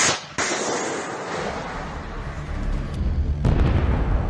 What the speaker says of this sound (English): Ukrainian forces fire a Javelin.